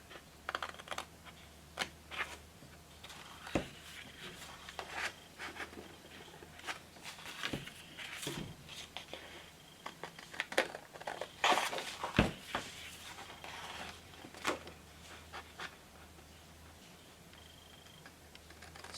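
Scissors cutting paper around a picture for a Christmas journal, a string of short, crisp snips and rustles at irregular intervals, close and fairly quiet with no speech.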